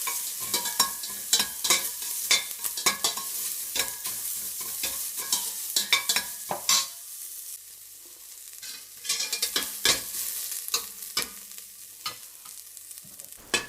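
Onion, beans, cabbage and carrot sautéing in a pan for egg fried rice, a soft steady sizzle under repeated close scraping and stirring strokes of a spatula, with a calmer stretch midway.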